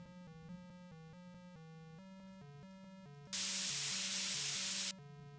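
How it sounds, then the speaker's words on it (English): A loud burst of hissing white-noise static from RPG Maker cuts in for about a second and a half, swamping the quiet melodic game music that plays before and after it. "Like static, maybe?"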